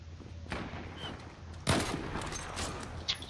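Gunfire in the online shooter Zula, a steady background of distant shots with a louder close burst midway and scattered cracks after, no talk over it.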